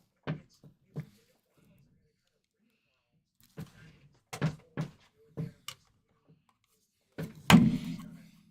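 A magnetic card holder snapping shut on a Topps Inception football trading card: a few soft clicks and thunks, then one louder closing snap near the end, with someone talking over the handling.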